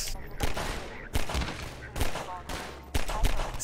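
Weapon fire in Half-Life 2, several loud bursts of shots spaced about a second apart, heard close with game noise between them.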